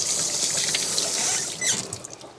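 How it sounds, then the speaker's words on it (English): Tap water runs steadily into a sink as dropped spaghetti is rinsed off, a continuous close splashing hiss with a brief clatter near the end. "I'm gonna rinse it off and eat it."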